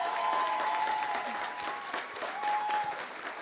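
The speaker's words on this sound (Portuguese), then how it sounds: "Aplausos para essa mulher, por favor." An audience at a Brazilian panel on Black fiction applauds a speaker, the clapping fairly soft and steady throughout, with a faint voice or tone briefly rising above it.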